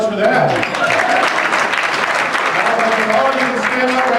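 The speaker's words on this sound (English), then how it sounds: "All right, round of applause for that." Audience applause at a speech, a dense steady wash of clapping lasting several seconds, with a speaking voice and crowd noise mixed in over it.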